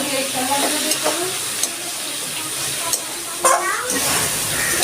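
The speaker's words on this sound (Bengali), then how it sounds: "আমার ভাজাটা প্রায় হয়ে গেছে, আমি এখন একটু কাঁচা সর্ষের তেল দিয়ে দিচ্ছি" Snake gourd and shrimp frying in a pan as raw mustard oil goes in, a steady close sizzle running throughout with brief louder crackles and stirring clatters, no talk.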